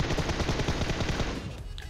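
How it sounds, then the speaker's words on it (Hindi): Rapid automatic gunfire in the PUBG Mobile battle royale game, a dense, continuous stream of loud shots rattling in quick succession before tapering off slightly at the end. "पीछे से गोली चली अपने टीममेट को मारने लग गया"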